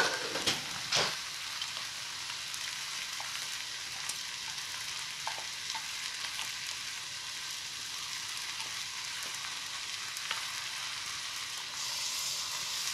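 Beef, wine and roux being stirred in a steaming stew pot with a spatula, a steady close sizzle and bubbling hiss with a few sharp scrapes near the start, no voices.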